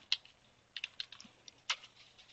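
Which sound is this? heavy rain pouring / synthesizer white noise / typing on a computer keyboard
typing on a computer keyboard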